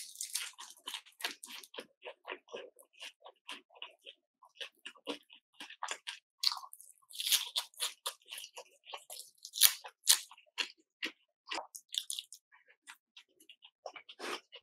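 Fried chicken topped with cheese and creamy sauce is chewed close up, with crisp crunchy bites and wet chewing in irregular bursts, loud against near silence.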